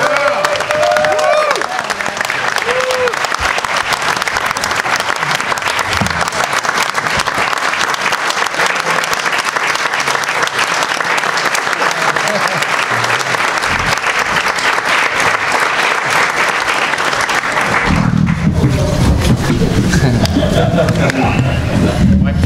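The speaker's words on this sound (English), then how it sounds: "give a round of applause for Peter and his Fans of" Loud, sustained applause from a large audience at a film music fan panel, dense clapping with some cheering running steadily for about eighteen seconds before tapering into a quieter room.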